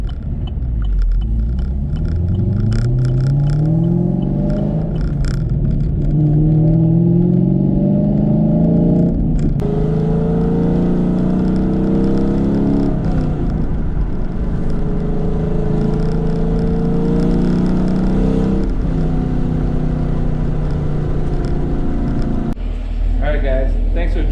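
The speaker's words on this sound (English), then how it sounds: "back off the timing maybe a couple degrees just to tone down the burbles" A Chevrolet Camaro with an LT1 engine and a popcorn burble tune, driving with a loud, steady exhaust drone that rises and falls through gear changes, with crackling burbles on deceleration.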